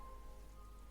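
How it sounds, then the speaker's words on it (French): Rain falling outside a bedroom, a soft steady patter of drops on a surface, faint and continuous, with a low hum underneath and no voices. "il pleut dans ma chambre"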